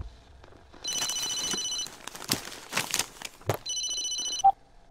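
An indoor telephone rings in two long trilling bursts with a pause between, under clattering and shuffling noises and a brief sharp tone at the end.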